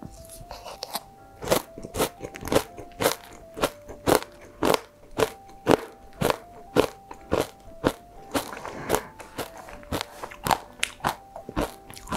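Crunchy bites of yogurt ice cream with chocolate chunks and kadaif, a dozen loud, close crunches and chewing in a steady rhythm with no talking.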